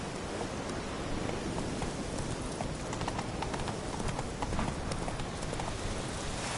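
Roach's hooves clip-clop steadily on the ground in the video game The Witcher 3: Wild Hunt, a continuous close gallop rhythm over a dense bed of noise that could be rain or rustling.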